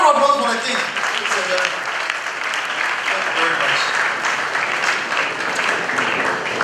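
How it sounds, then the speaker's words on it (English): Sustained clapping from an audience applauding the king at a graduation ceremony, steady and dense throughout, with a voice briefly speaking over it at the start. "I want to applause for the king."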